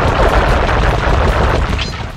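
Gunfire in Sly Cooper and the Thievius Raccoonus, a dense, loud, continuous rattle of rapid shots with no talking.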